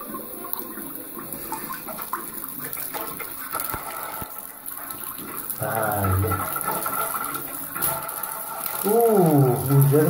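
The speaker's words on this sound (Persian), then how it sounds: "اینم آب شیری که ما در اینجا داریم" Household tap water running from an opened faucet in a German home, a steady rush under a persistent background hiss, growing fuller and louder toward the end with some faint voices alongside.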